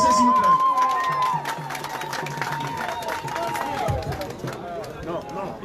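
A crowd in Tokombéré, Cameroon, cheers and applauds at a political rally for Maurice Kamto, a dense, continuous swell of clapping, shouts and whistles, fairly loud and steady, with voices rising in the mix.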